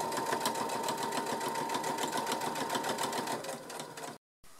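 A sewing machine stitches the pocket onto a tote bag, a steady close whir of rapid needle strokes that cuts off abruptly near the end.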